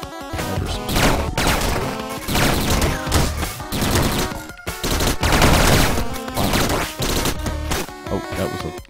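Dense, continuous bursts of rapid gunfire and crashing impacts from destroyed blocks firing bullets in the video game Downwell, loud and chaotic throughout with brief gaps, no talking.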